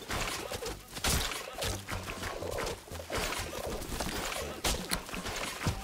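Birds coo in the Plants vs. Zombies 3: Welcome to Zomburbia video game, soft repeated calls layered over busy game music and effects at a steady level throughout.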